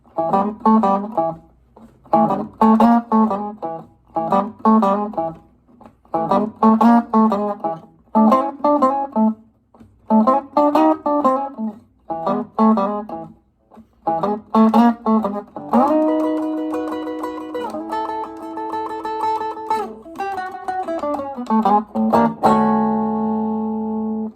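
Electric guitar runs through a Chicago blues pattern: repeated short rhythmic chord stabs in a steady shuffle, then longer ringing chords and a closing turnaround, with no voice over it.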